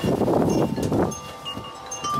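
Strong gusts of wind buffet the microphone outdoors, loud and steady at first, then easing into a lighter, breathy rush.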